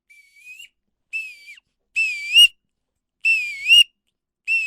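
A series of five high, thin whistled calls from a wood duck whistle call, each rising and sliding upward, separated by short pauses, clear and alone.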